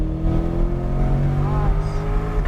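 A Corvette C8 Z51 accelerates at full throttle on the New Hampshire Motor Speedway track. A loud, close engine drone rises steadily in pitch, and a voice talks over it.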